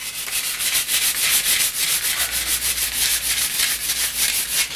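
Steady back-and-forth rasp of sandpaper rubbed by hand along a wooden snooker cue shaft to remove lacquer, a quick even rhythm of strokes, close and alone.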